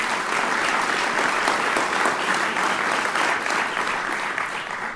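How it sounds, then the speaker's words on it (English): Dense, sustained clapping from a crowd at a high school sports awards ceremony, even and continuous, easing slightly toward the end. "Please, big round of applause for Ali Abbas of Festus."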